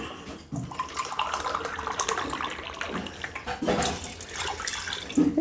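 Water is poured into a cooking pot, about two and a half glasses of it, with a small potato in the kitchen. The stream splashes close and steady, with brief breaks between pours.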